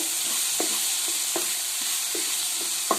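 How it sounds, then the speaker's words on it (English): Small cut onions fry steadily in a pan for a mutton roast, a continuous close sizzle broken by a few soft clicks of stirring, with no talking. "the cut small onions and fry nicely."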